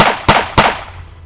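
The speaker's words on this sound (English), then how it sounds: "This time, gunshots." Two sharp, loud gunshots fired in quick succession inside a home bedroom, each a close, hard crack followed by a brief reverberant tail, with no voices.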